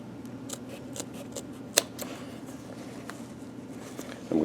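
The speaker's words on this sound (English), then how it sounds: "I'm going to kind of want to cut about 3/8 of an inch from that center seam in the back." Scissors cut fabric along a center seam for a newsboy cap. Faint, quiet snips come at intervals over a low room hum, with one sharper click partway through.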